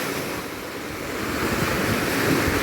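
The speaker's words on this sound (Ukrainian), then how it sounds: "прямо такі здорові хвилі" Big sea waves on the Black Sea beach at Golden Shore in Odesa, a continuous rushing surf that swells slightly louder toward the end, mixed with wind buffeting the microphone.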